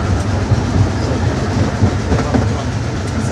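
A train rolls over a viaduct, with a steady, loud rumble and rhythmic wheel clatter filling the whole stretch from inside the carriage.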